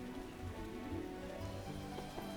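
Rain falls steadily in The Witcher's Trade Quarter at night, a soft, constant hiss of drops on the streets, faint and unbroken, heard under a low ambient musical drone.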